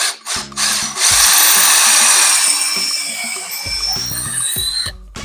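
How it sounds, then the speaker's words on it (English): A power drill with a small bit bores a pilot hole up into a wooden ceiling joist for a kayak mount: a loud, sustained whine rising and settling under load, bracketed by brief motor start and stop bursts, close by. "take a screwdriver with a small drill bit in it"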